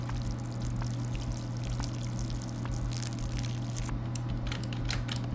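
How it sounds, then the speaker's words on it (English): Watering plants in the video game Schedule 1: a steady stream of water pours continuously for several seconds over a low, constant background hum, with no talking. "Now let's water the plants."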